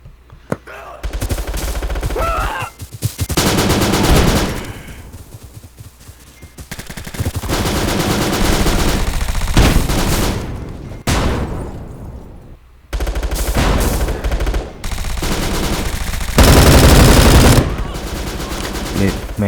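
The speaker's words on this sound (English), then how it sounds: "I was shooting at the red ones, but man, they got me anyway." Automatic gunfire in the online shooter game Bullet Force, with loud sustained bursts of rapid shots broken by short pauses across the clip.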